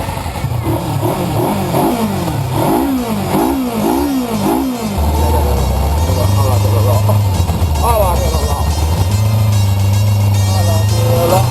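A Kawasaki Versys X 300 adventure motorcycle's engine revs up and down in quick rising and falling bursts close by, then settles into a steady running drone, with another set of revs later on.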